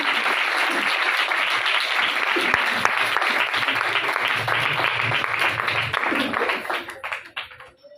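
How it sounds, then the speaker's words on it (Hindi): A church congregation bursts into loud, sustained applause, a dense wash of many hands clapping close and steady for several seconds before fading out near the end, with a few voices mixed in. "पूरी कलीसिया के लिए जोरदार तालियां और आनंद से"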